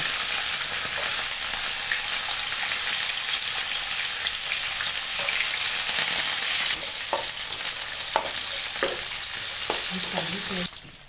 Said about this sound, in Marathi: शेंगदाणे त्याच्यात तळून घेऊ.